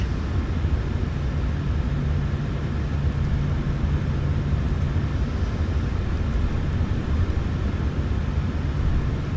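A light aircraft engine idles steadily before takeoff, heard from inside the cabin as a continuous low droning rumble with a faint tonal hum, unchanging throughout.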